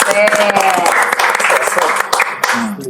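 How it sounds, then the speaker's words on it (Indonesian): Audience applause for community members at an automotive community talk event, dense steady clapping from a crowd with voices talking over it throughout. "Tepuk tangan untuk teman-teman komunitas."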